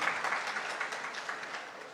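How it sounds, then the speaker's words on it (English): Audience applause at a housing project launch ceremony in Islamabad, a dense burst of clapping from a crowd that gradually fades over two seconds. "please give a big round of applause to Mr. Luis, Mr. Lim Sian"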